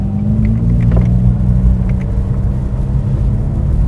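Porsche 911 997 GT3 driving on a road, heard from inside as a steady, loud low engine rumble and drone with no speech.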